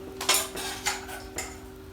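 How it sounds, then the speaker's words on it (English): A spoon clinks and scrapes against a bowl while crispy chilli beef is served out, three or four distinct close metallic taps spaced under a faint steady hum. "spoon your beef out"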